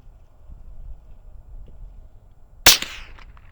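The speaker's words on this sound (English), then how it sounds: "Firing." A single sharp rifle shot from a .17 HMR or .22LR at an outdoor range, a loud close crack with a short echoing tail, preceded by quiet background.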